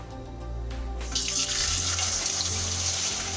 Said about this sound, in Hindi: तेल गरम हो चुका है, थोड़ा थोड़ा करके चिप्स डालेंगे इसमें।